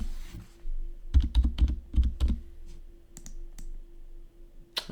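Fingers type a password on a computer keyboard nearby: quick bursts of crisp key clicks in irregular clusters, a few isolated taps, and a final sharp click, with no talk.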